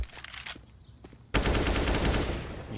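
Sustained UMP submachine gun fire in CS:GO during a FaZe versus BiG match at the PGL Major Krakow 2017 erupts suddenly after quieter shots and lasts as a loud, continuous burst to the end.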